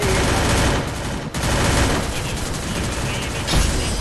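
Rapid bursts of automatic gunfire from the Free Fire battle royale game, dense and loud throughout with brief dips, overlaid by game effects and a voice talking.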